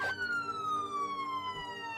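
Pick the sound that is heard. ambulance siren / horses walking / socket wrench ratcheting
ambulance siren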